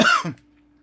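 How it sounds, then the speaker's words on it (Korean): A single short, close cough from a man, one harsh burst followed by a softer second push, then quiet. "이맘때 되면 또 기침이 자꾸 이렇게 또 나옵니다"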